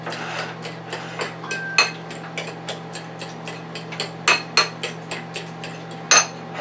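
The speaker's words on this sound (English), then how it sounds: "about 3 tablespoons of heavy cream. Let's mix that up." Eggs being whisked with heavy cream in a bowl, a rapid series of light metallic clinks and taps against the bowl, some strokes sharper and louder than others.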